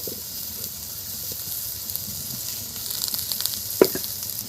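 Green chillies hiss in hot oil with betho greens, a steady, fairly quiet sizzle that grows busier toward the end, with a single sharp clink near the close.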